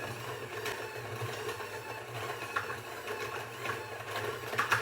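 An electric mixer runs at low speed beating powdered sugar buttercream, a steady low motor hum with soft whirring and slight rhythmic churning, close and fairly quiet.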